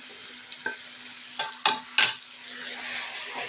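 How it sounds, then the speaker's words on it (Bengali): Shrimp frying with poppy seeds in a pan, a faint hiss with a few sharp scraping stirs and clatters spaced irregularly, close and quiet. "পোস্তটা কিন্তু ভেজে নেবেন বন্ধুরা, আমি কিন্তু পোস্তটা ভেজে তারপরে কিন্তু মাছটা দিচ্ছি"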